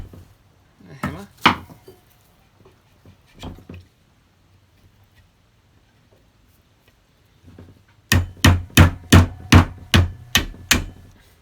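A hammer drives a screwdriver into the eyes of a coconut aboard a catamaran in Tonga: a few scattered knocks, a pause, then a rapid run of about eight sharp, loud, evenly spaced strikes.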